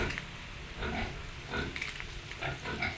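Pigs in a pig pen grunt in repeated short, low snorts over a few seconds, close and moderately loud, with farm ambience behind them.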